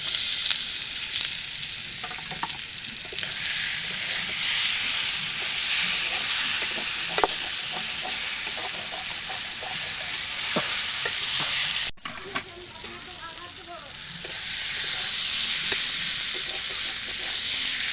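Spices sautéing in a pan for a potol and paneer curry, a continuous loud sizzle with scattered stirring scrapes and clicks, a brief cut near the middle, no talking.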